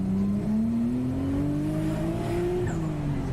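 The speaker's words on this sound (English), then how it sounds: "let's go for a second gear pull real quick" A 400-horsepower drift car engine revs through a second-gear pull, its steady droning tone climbing in pitch over about two and a half seconds before dropping at the shift, loud and close with no talking.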